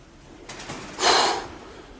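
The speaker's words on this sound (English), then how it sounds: "But there's quite a lot of pigeons in here." Pigeons inside a building give a soft, brief coo that swells once in the middle against a quiet hiss, fairly close and faint.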